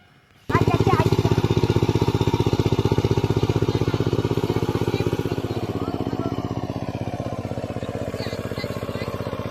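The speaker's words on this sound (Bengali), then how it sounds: "মাঠে পাওয়ার টিলার নেমে পড়েছে, মাটি চষার কাজ হচ্ছে" A power tiller ploughing a muddy village field starts up abruptly and runs on as a loud, steady, close engine chug with a continuous rhythmic throb.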